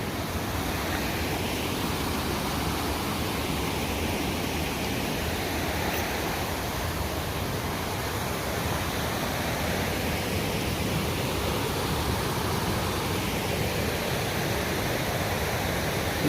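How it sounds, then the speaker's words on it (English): Flowing creek beside a hiking trail on the Superior Hiking Trail, a steady broadband rush of water that stays even and close throughout, with no voices. "Nice creek though."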